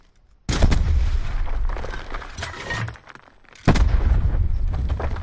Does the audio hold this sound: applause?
no